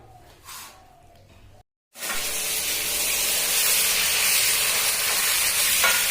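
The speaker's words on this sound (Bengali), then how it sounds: "এই যে আমাদের রাঁধুনি মদের চাট বানাচ্ছে, খুব সুন্দর রান্না করছে।" Snack for drinking being fried and stirred with spices in a pan: after a brief gap, a loud steady sizzle and hiss sets in and holds, with faint stirring scrapes and no talk over it.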